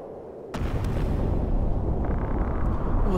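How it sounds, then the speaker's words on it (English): A sudden loud boom from the Final Fantasy Tactics video game, striking at once and followed by a sustained rumbling roar that stays dense and forceful to the end, with no voices. "What was that? An explosion?"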